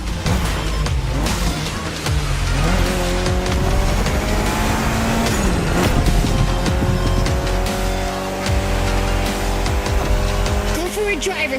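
Mitsubishi Lancer Evo X racing in The Crew Motorfest, engine revving hard through rising gear pulls with squealing, skidding tires, loud and close, while a voice talks over it.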